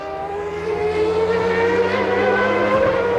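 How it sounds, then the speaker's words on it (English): Formula One race car at the 1994 German Grand Prix, engine screaming loud and near as it slows under heavy carbon-on-carbon braking, revs sliding across a few seconds with no talking. "The driver's body feels like it weighs 4 times its weight as he slows that car down with these incredible carbon-on-carbon brakes"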